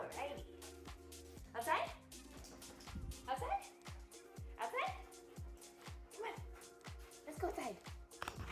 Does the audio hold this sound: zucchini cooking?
no